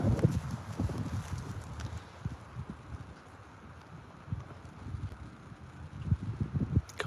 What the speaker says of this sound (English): Wind's picking up a little bit.